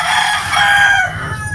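A rooster crows once, loud and close, a single drawn-out call lasting about a second and a half with no talk over it.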